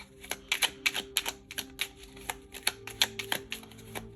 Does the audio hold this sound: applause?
no